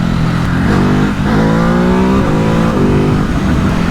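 A Nissan 350Z V6 engine revs hard and rises in pitch through a couple of gear changes, loud and continuous under rushing road noise.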